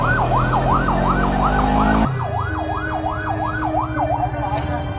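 An ambulance siren wails loud and close, its rising and falling sweep repeating steadily over traffic noise, with a deeper engine drone cutting out partway through.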